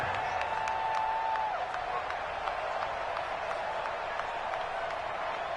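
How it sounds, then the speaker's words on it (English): A football stadium crowd roars and applauds before a big third down, a steady broad wash of cheering heard at a moderate distance with no clear speech. "the crowd getting into it as we come up on a big third down"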